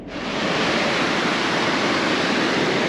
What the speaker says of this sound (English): that's an incredible amount of water coming down in less than an hour, but it's just eating the road away as well